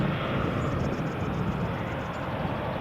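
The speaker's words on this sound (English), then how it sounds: "Got a KLM from Amsterdam on the approach now." KLM Boeing 737-800 from Amsterdam on approach to Edinburgh Airport, a dense, steady jet roar with a faint pulsing high whine, sustained and fairly loud for a few seconds with no talk.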